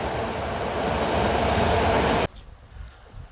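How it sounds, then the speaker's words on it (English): A passing train rumbles loudly near lodgings in the Canadian Rockies, a dense steady roar that cuts off abruptly into quiet room tone. "I feel like I'm staying at a lot of places that have a train going by."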